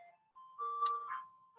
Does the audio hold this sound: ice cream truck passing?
yes